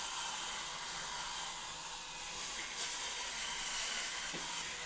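A Homitt cordless power scrubber runs steadily while scrubbing limescale, a soft continuous whirring hum with faint brushing texture, fairly quiet and even throughout with no talking.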